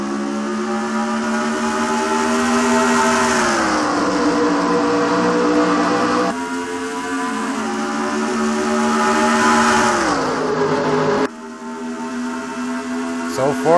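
Race cars launching at the green flag at Charlotte Motor Speedway in a NASCAR racing video game, loud engine tones sweeping up and down in repeated revs as the pack accelerates, with brief background talk.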